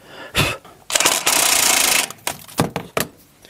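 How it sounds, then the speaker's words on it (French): An impact wrench hammers at a tie rod end on a Renault Mégane 2: a short blip, then a loud, sustained rattling burst of about a second, followed by several short clunks in a garage. "On va déjà essayer de desserrer celle-là avec la péteuse."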